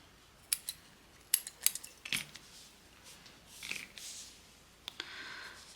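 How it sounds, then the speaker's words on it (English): Scissors snipping crochet yarn, a handful of quiet close crisp snips scattered irregularly over a few seconds with soft handling noise. "And cut the yarn."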